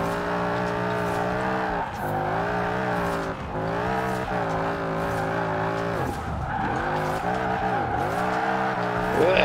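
Ford F-100 pickup in Forza Horizon 4 drifting: a steady, loud engine drone with rising and falling revs across gear shifts, tyres squealing and sliding throughout, continuous with no pauses.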